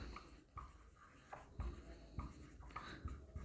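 Chalk or marker writing out an economics term on a classroom board, a run of scratchy strokes and taps at close range, with no talking.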